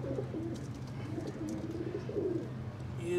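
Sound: pigeons cooing near a hatching chick

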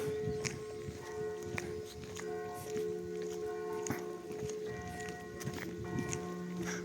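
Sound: church bells ringing

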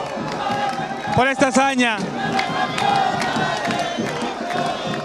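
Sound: fans cheering and applauding at airport

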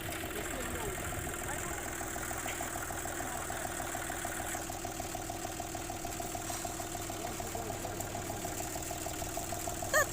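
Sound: car engine idling

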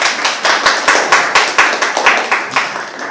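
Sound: audience applause

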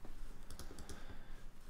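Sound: typing on a computer keyboard

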